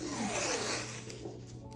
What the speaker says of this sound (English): I'm going to take some tape and I'm going to tape down the edges all the way around